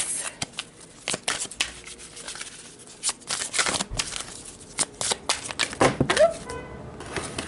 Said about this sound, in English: let's pull a couple more cards to see what the highlights are for you guys